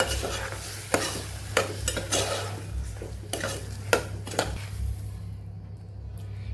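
Sama millet being sautéed with curd in a pan, a soft steady sizzle broken by repeated spoon scrapes and stirring clatters that stop near the end, close and unaccompanied by voices.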